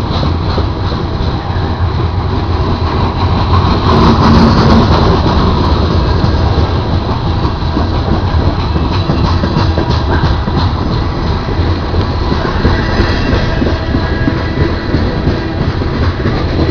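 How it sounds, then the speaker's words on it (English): A METRA commuter train passes close by in Geneva, a loud, continuous roar of rumbling wheels and rail noise that lasts throughout, with no talking. "Yeah, there's the METRA Train."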